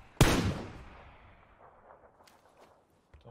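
A single loud gunshot in the battle royale game PUBG cracks out near the start and rings off into a fading tail, with a few faint clicks and scuffs after it.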